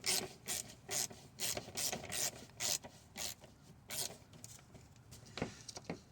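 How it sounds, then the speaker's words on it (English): Rapid ratcheting bursts from a 10mm socket ratchet driving a bolt back in on a 2013 Lexus GS 350 during an oil change, a run of short, even clicking strokes close by, then a brief pause and a few faster clicks. "I have to screw it back in by a 10mm socket"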